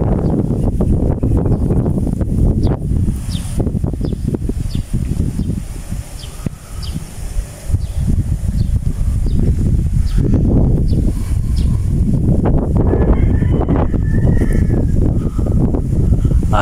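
Strong outdoor wind at a house in a Philippine subdivision, a loud continuous roar of gusts buffeting the microphone, with rustling and faint background sounds throughout.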